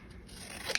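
Scissors cut through paper for a junk journal card in one short, close snip. A soft rasp of blade on paper builds to a crisp closing click.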